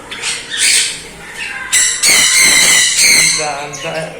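Exotic cage birds, including finches, at a bird shop in Barrackpore squawk and squeal loudly and nearly nonstop, with shrill overlapping calls close by and someone speaking among them.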